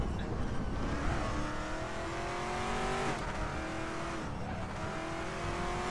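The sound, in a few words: race car driving in RaceRoom video game, Oculus Rift DK2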